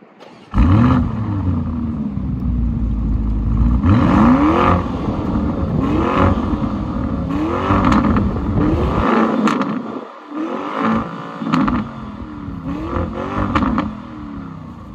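A 2020 Lamborghini Urus SUV engine roars and revs repeatedly, rising and falling in loud bursts close by, with a brief pause before revving again.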